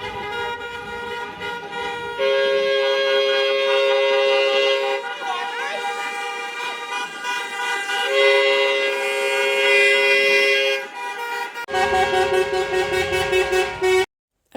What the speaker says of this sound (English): Rach, I think there's something wrong with our horn.